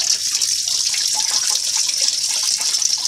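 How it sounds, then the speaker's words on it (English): Hot water runs steadily from a kitchen tap while pokeweed greens are rinsed, a continuous close splashing gush with no talking. "Letting that water get hot while I'm finished rinsing these greens."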